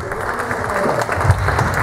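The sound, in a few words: audience applause at conservatory concert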